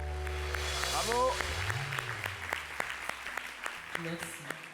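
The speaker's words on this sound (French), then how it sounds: "merci d'applaudir Lydia" Studio audience on a French local TV show claps for a performer named Lydia, a dense patter of applause with scattered sharper claps, a brief vocal whoop and background tones underneath, fairly quiet overall.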